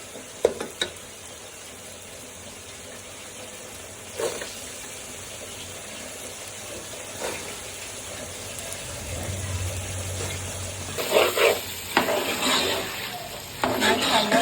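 Chilli masala sizzling in a pan while being stirred, with a few scattered scraping strokes over a steady frying hiss that grows louder and busier near the end.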